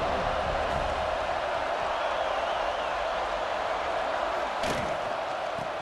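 A stadium crowd roars in a college football video game against Georgia, a dense steady wash of noise throughout with a brief sharp slam near the end.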